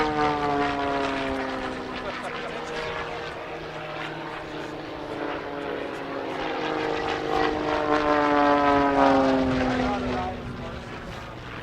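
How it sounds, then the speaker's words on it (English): Propeller aircraft at an airshow converge from opposite directions in an opposition pass, a steady droning engine roar that swells and fades as they cross, with a voice talking over it. "they will now converge towards each other for an opposition pass, with 2 aircraft flying in opposing directions"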